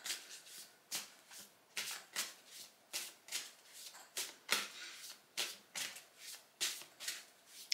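A deck of reading cards is shuffled over and over in a quiet room. About a dozen soft, crisp riffling bursts come in a steady rhythm, close to the microphone and fairly faint, with no talking.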